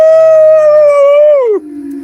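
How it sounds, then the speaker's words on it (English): A wolf howls loudly and close: one long, steady, sustained tone that bends downward near the end into a lower trailing note. "Wolf!"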